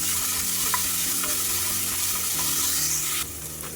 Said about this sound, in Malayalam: കുറച്ച് ഇഞ്ചി വെളുത്തുള്ളിയും 2 പച്ചമുളകും ഉടച്ചെടുത്ത തക്കാളിയും ഒക്കെ ചേർത്ത് നമുക്ക് ഒന്നുകൂടി വഴറ്റിയെടുക്കാം